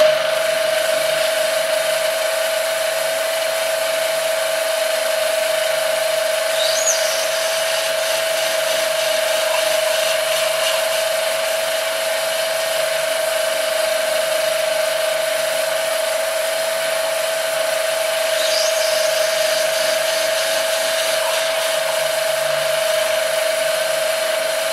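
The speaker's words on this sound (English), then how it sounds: "9 holes drilled successfully" A power drill runs steadily and loud, drilling a series of holes in a tone that holds without break, with faint squeaks riding over it.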